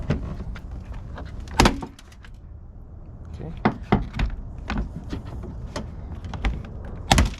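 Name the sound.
prying open Chevrolet Colorado front panel after loosening bolts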